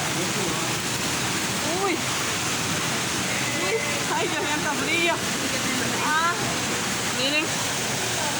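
A waterfall pouring over rocks in an outdoor natural setting, a loud continuous rushing roar close by, with people talking and exclaiming over it throughout.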